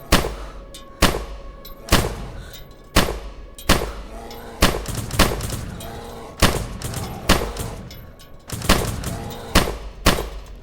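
Repeated gunfire in the DayZ video game during a Thanksgiving-themed session, a series of loud, sharp shots spaced roughly a second apart, some doubled, with no voices over them.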